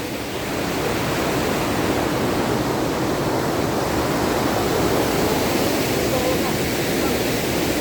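Natural hot spring water at a Gaurikund bathing spot, pouring steadily as a loud, continuous broadband rush like a small waterfall, constant throughout with no voices.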